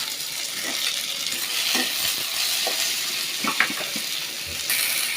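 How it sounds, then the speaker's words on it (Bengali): Chopped onion and tomato sizzling steadily in a frying pan, a constant bright crackle with occasional soft scraping stirs, close and continuous throughout without talk. "পরিমাণ মতো পেঁয়াজ কুচি দিয়ে দিলেন এগুলো একটু বাইজে নিতে হবে টমেটো কুচি দিয়ে দিলেন"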